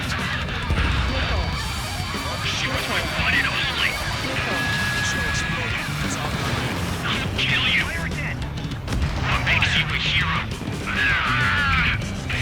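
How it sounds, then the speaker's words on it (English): Artillery shell bursts amid aerial combat in the video game Ace Combat 7, a heavy crash and rumble mixed with jet noise and other battle sounds while radio voices talk over it. "Shell exploded."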